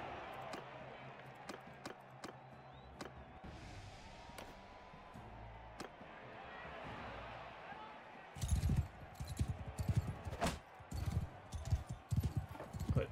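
Horse hooves clop during a medieval battle in the Mount & Blade II: Bannerlord video game. Scattered thuds and sharp hits come first, then a denser burst of galloping impacts and clashes, with someone talking over them.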